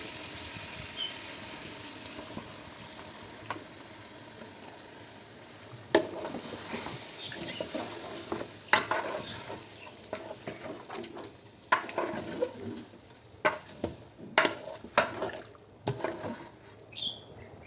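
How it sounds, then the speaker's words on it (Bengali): Jackfruit is stirred in a frying pan for a mixed vegetable dish, a soft sizzle under repeated scraping and wet clattering strokes that grow busier toward the end. "কাঁঠাল একটু নেড়ে নেই পরে আবার বাকিটা দিব"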